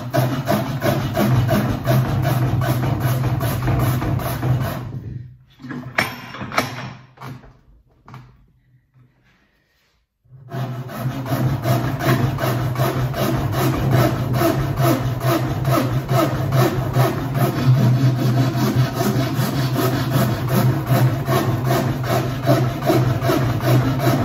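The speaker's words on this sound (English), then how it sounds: "Using our medium rasp again," A medium rasp scrapes steadily across a wooden snooker table cushion block in repeated close strokes, with a brief pause midway before the rhythmic rasping resumes.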